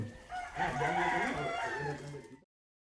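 A gamecock broodstag rooster at a game farm in Toledo City, Cebu, gives one loud, close crow lasting about two seconds, then falls silent.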